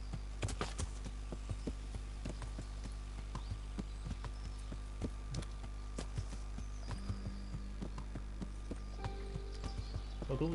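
Hooves of a ridden horse in Kingdom Come Deliverance clop in a steady walking rhythm, close and crisp, sharp repeated strikes over a low constant background hum.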